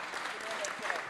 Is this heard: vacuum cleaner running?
no